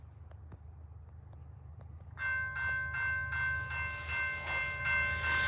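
A BNSF SD7 locomotive approaching, at first a low steady rumble, then from about two seconds in a loud horn with pulsing blasts that build and hold near the listener.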